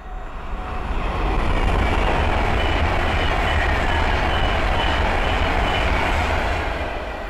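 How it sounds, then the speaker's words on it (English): An Avanti West Coast Class 390 Pendolino electric train from London Euston to Manchester Piccadilly passes at Linslade on the West Coast Main Line, a loud, steady rushing roar that swells in and eases off slightly at the end. "the next train to pass by is an Adventure West Coast Class 390 Pendolino from London Euston to Manchester Piccadilly"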